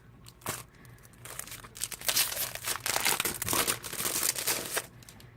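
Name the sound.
paper being handled and crinkled for a craft kit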